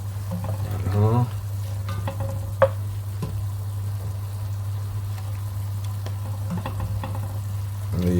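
Vegetables and pork sizzling and being stirred in a pan, a steady close frying hiss broken by a few scraping stirs and a sharp clink, with a voice speaking briefly over it.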